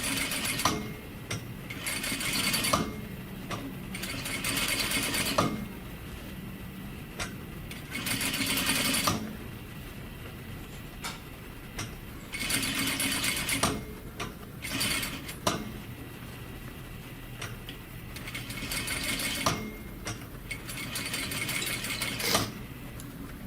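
A sewing machine stitches an armhole facing in repeated bursts of fast, steady whirring, with short quiet pauses between runs while the fabric is guided under the presser foot.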